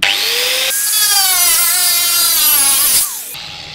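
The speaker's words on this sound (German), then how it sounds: "Aber mit der Flex hier, da wird das schon besser klappen." An angle grinder cuts into a projector casing, giving a loud, steady high-pitched whine with shifting tones for about three seconds before it abruptly drops away.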